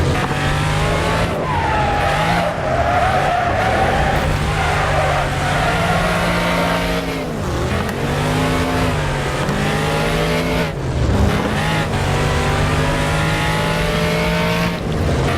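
Race car engine in the Wreckfest racing game, revving loud and continuous with repeated drops in pitch as the gears shift up, plus brief tyre squeal.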